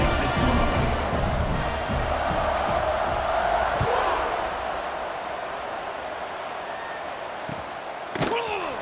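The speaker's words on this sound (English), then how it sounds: "this crowd is buzzing after that last score" Simulated stadium crowd in the College Football 26 video game, a steady loud roar and buzz after a score, with occasional thuds and a commentator talking over it.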